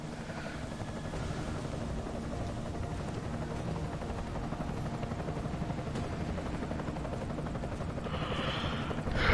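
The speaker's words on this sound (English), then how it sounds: "Enemy helo sighted." An enemy helicopter in Deus Ex: Mankind Divided thrums with a steady rotor beat, moderately loud and continuous, growing slightly louder toward the end.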